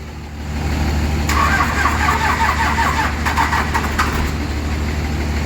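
A truck engine cranks and catches after exhaust work, then settles into a steady, rumbling idle close by with a few brief rattles.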